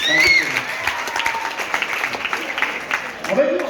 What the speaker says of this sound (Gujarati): બંને દીકરીઓ માટે એકવાર જોરદાર તાળી